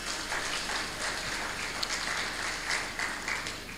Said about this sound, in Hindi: तो ताली तो ठीक से होश में बजा लीजिए